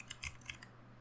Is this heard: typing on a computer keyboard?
yes